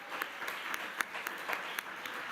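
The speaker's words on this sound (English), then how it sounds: "A big round of applause." Scattered audience applause at an awards press conference, a thin steady patter of clapping with a few sharper individual claps standing out, moderately distant and fairly quiet throughout.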